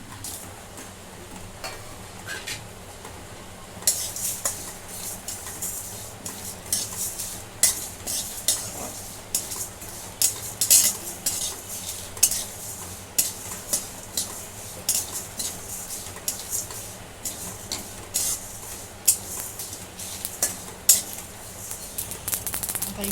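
Whole spices (coriander seeds, black cardamom, star anise, bay leaf, cumin, peppercorns, fennel and sesame) dry-roasting in a pan for Kolhapuri misal, with a spatula scraping and stirring in steady rhythmic strokes over a continuous soft rattle and hiss.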